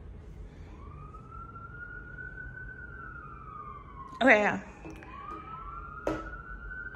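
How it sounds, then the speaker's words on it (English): A police siren wails in the distance outside a condo, its tone slowly rising and sweeping, with a short burst of nearby speech and a clatter cutting across it. "those sirens come every day, like 5 times a day"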